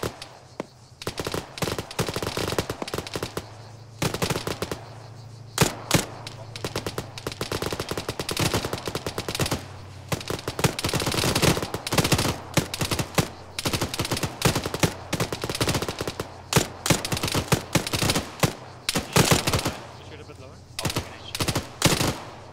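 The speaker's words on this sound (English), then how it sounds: "they're shooting at us" Rapid bursts of gunfire crack through a tactical recce training mission, dense volleys and single shots overlapping nearly nonstop, with team members shouting callouts over the shooting.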